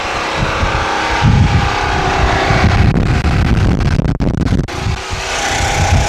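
A Sun Joe SPX 9004 electric pressure washer running through 100 feet of hose at about 1,000 PSI, likely powered from a generator, gives off a loud, close, steady motor drone with a few brief dips.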